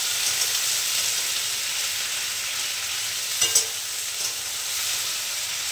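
Potato and yardlong bean curry sizzles steadily in a pan, a continuous bright frying hiss with a brief scrape of stirring partway through, no talking.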